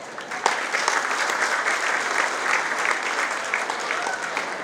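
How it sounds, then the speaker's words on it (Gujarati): Audience at a youth organisation's prize distribution and talent felicitation ceremony applauding steadily, a dense sustained clapping that fills the room throughout. "તમે સૌ જોરદાર તાળીઓના ગડગડાટ વડે વધાવો."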